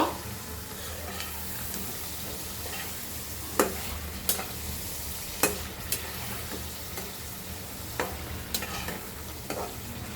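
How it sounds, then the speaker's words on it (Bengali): Hilsa fish being sautéed and stirred in a pan, cooked with cucumber: a steady low sizzle runs throughout, with a few sharp scrapes and knocks of the spoon against the pan. "এই যে মাছটি দিয়ে দিব এখন একটু কষায় নিব"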